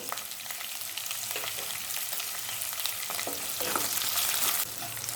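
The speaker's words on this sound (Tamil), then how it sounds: "பூண்டு நல்லா வதங்கிடுச்சு." Crushed garlic and slit green chillies fry in oil for a peanut kara kuzhambu, a bright continuous sizzle with stirring scrapes, swelling slightly louder toward the end.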